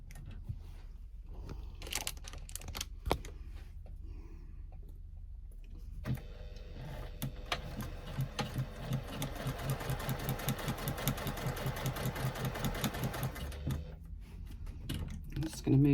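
A sewing machine stitches in a zipper pocket lining with a scant quarter-inch seam, running in a steady rapid burst of repeated needle strokes for several seconds, with brief handling noises before and after and speech nearby.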